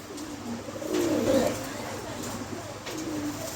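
Pigeons at a pigeon market coo softly in a low, throaty burst near the middle, with quieter cooing after it over a faint background.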